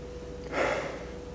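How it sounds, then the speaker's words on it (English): One short nasal sniff at a glass of cinnamon-flavoured Coca-Cola, a quiet breathy intake lasting about half a second, close up over a faint steady hum. "Let's give it a sniff."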